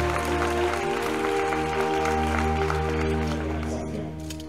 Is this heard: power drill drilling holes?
no